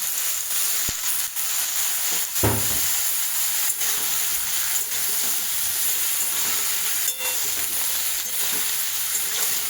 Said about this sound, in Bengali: এবার আমি এর মধ্যে এই লাউগুলো একটু ফ্রাই করে নেব